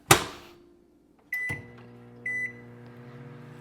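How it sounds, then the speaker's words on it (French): A microwave oven heating green beans: a sharp door thump, then two pairs of beeps as it starts, followed by the steady, quiet hum of the running oven. "Fait chauffer ça au micro-ondes."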